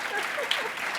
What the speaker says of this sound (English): I'm hoping that we can sort of clap loudly enough to let her know